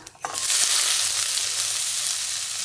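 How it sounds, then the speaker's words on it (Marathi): Onion frying in plenty of oil with cumin, mustard seeds and hing for a chickpea-flour dish, a loud, steady, close sizzle that bursts in after a brief quiet start and holds with no talking. "कांदा चांगला थोडासा लाल होतोपर्यंत भाजून घ्यायचा"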